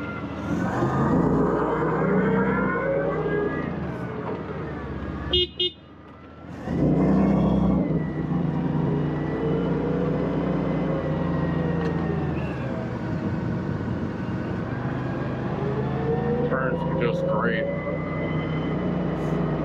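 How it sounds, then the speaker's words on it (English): A Clark CGC70L 15,500 lb propane forklift drives and turns, its steady engine drone running loud and close throughout with a brief dip midway, a few squeaks and mechanical clatter, while someone talks over it. "Do a little 360 here. Show off the reverse for you."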